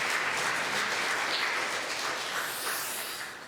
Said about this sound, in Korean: 우리 함께 박수로 하나님께 영광 올려드리겠습니다.